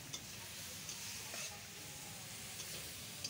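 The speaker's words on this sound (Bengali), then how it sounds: "সজনে পাতা দিয়ে ভালো করে আমি ভেজে নেব" Drumstick (moringa) leaves, boiled beforehand, fry gently in a pan, giving a faint, low sizzle with occasional light stirring clicks. The sound is quiet and steady, with no talking.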